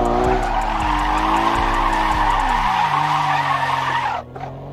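Car drifting in a driving video game, a sustained loud tire skid over a revving engine whose pitch shifts through the slide, then cutting off abruptly near the end.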